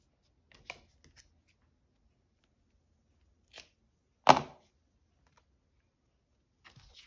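Paper is cut in half for a junk journal craft project. Sparse, quiet snips and rustles stand apart in an otherwise silent room, and one sharp, louder cut lands near the middle.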